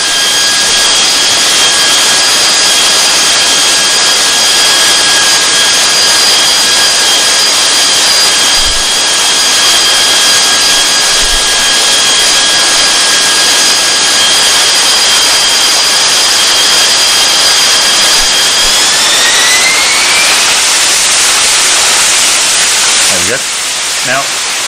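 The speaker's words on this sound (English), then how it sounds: "Let's have a look at a Harrier jump jet" Harrier jump jet performing a vertical takeoff, its jet engine roaring loud and steady with a high whine that rises near the end before cutting off abruptly, no talk over it.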